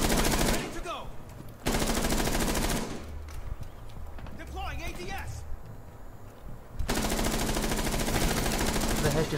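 Rainbow Six Siege gunfire comes in loud, dense automatic bursts at the start and end, with quieter scuffles and footsteps between them and a player talking over the action.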